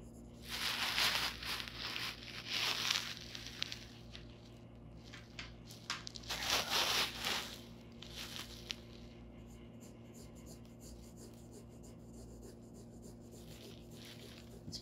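A graphite pencil scratches across drawing paper in a value study, several bursts of brisk back-and-forth shading strokes, then quieter lighter marks over a steady low hum, no talking.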